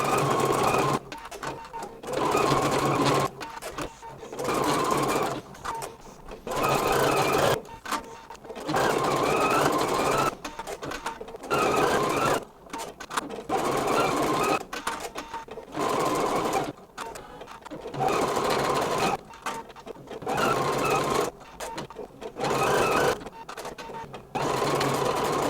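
A machine stitches tack-down stitches on a sparkle tote bag, its fast mechanical needle chatter running in repeated close bursts with short pauses throughout.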